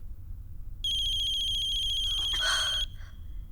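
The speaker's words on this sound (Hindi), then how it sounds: "फोन आ रहा है" A phone ringtone chimes in a steady electronic pattern for about two seconds, loud and close, then stops abruptly over a low background hum.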